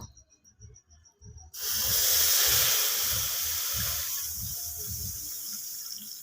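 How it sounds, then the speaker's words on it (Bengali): Milk goes into a hot kadai and a sudden loud, broad hiss bursts out after a quiet start with soft low knocks, then eases slowly into a softer steady sizzle. "দিয়ে দিছি কড়াইতে দুধ দিয়ে দেবো"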